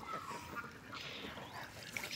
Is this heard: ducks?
yes